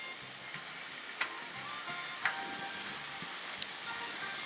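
Pork roll slices sizzle steadily on a Blackstone griddle, a constant close hiss of frying fat with a few soft pops and clicks scattered through.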